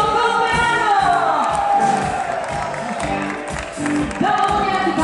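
A crowd claps and cheers for a birthday over loud rhythmic orchestra music, with voices mixed into the noise.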